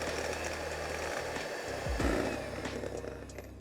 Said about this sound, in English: Continue whisking.